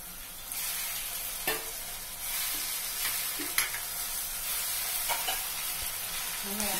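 Tomatoes sauté in a hot pan for a mushroom pepper gravy, a steady close sizzle and crackle with occasional sharp pops and spoon-stirring scrapes, with no talking.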